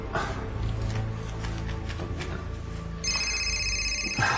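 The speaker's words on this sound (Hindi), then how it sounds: "उसी का फोन होगा।" Near the end, a telephone rings loudly in a drama scene with repeated bright electronic trills. Before that come a low background hum and music, with no speech.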